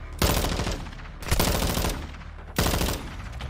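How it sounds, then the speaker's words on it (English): Automatic gunfire in a competitive Call of Duty semifinal match: three sustained rapid-fire bursts, loud and dense, each cutting off sharply before the next. "And Pena is just shooting everybody."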